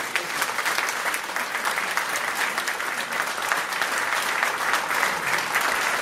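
A large audience at a dixieland band's farewell concert gives a singer sustained, dense applause. The clapping stays steady and full for several seconds without fading.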